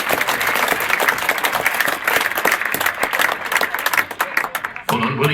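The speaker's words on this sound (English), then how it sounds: "But I think everybody, a little bit of round of applause" Diners at a reunion dinner give a loud, sustained round of applause that thins out near the end, and a voice starts talking over the last moments.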